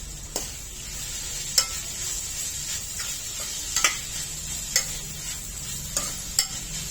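Ghevda bean vegetable cooked without onion or garlic is stirred and sautéed in a pan, giving a steady soft sizzle broken by sharp spatula scrapes and taps roughly every second, close and clear with no talking.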